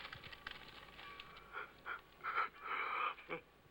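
A man in the 1978 film Blood Feud gives a drawn-out, breathy yawn that swells in several rising puffs near the end, close and fairly quiet, with no talking.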